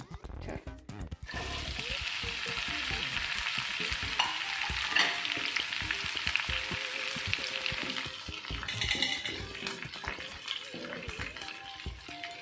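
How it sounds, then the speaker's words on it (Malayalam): Sliced okra frying in coconut oil in a pan, a steady close hiss and crackle running throughout with occasional stirring scrapes and clinks, no voices. "ഇതിലേക്ക് അരിഞ്ഞു വെച്ച വെണ്ടയ്ക്ക ചേർക്കും."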